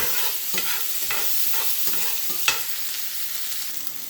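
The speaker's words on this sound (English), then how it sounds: "You want to scrape them around in there and pick up all that nice flavor from the steaks that we just sauteed in this pan." Sliced peppers and onions sauté in a pan that just cooked steak and are scraped around with a utensil: a steady close sizzle broken by regular scraping strokes about every half second, with no talking.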